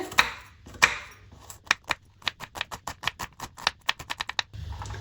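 A knife chops onion halves on a cutting board, starting with a few separate heavy strikes and then settling into a quick, even run of close, crisp taps, with no talking.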